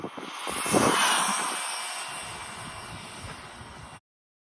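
Laegendary Thunder RC car on a 3S LiPo making a high-speed pass into the wind, a loud rushing whine building as it nears and fading as it goes by, with heavy wind noise, then cutting off.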